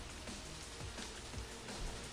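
Steady rain pours over a dinosaur safari park in Jurassic World Evolution, a dense, even hiss of falling water heard alone with a few low muffled thumps underneath.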